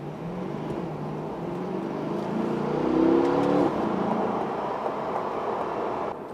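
Chevrolet Corvette C8 driving, a steady interior engine drone and road noise that swells briefly as the engine revs up midway, then settles back to a cruising hum.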